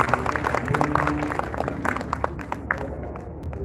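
Scattered, uneven claps from a modest audience at a Nigerian Bar Association Women Forum gathering in Port Harcourt, the individual hand claps distinct and tapering off toward the end.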